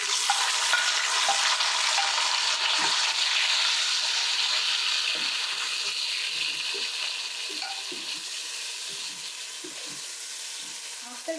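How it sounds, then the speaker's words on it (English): Chopped tomato and green chili dropped into onion frying in a pan, with a steady loud sizzle and hiss that slowly eases over several seconds, plus faint stirring clinks. "We will add the tomato and the green chili."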